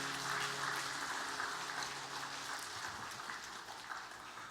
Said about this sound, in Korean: 섬겨준 우리 시온 찬양대를 위해서도 박수 한번 해주시죠.